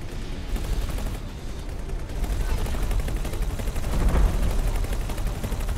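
Sustained gunfire in the space game X4 Foundations, with weapons hammering at a station in a dense, continuous rattle that swells toward the end, loud and close.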